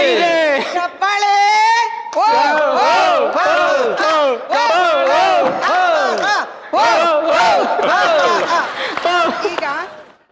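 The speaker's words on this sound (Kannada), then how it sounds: "ಚಪ್ಪಾಳೆ." A studio audience at a Kannada comedy talk show shouts and cheers loudly in a dense, continuous roar of many voices that swells and dips for about ten seconds.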